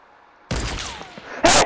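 Gunfire in the Fortnite video game: a loud burst of shots after a quiet start, then a second sharp, bright shot near the end.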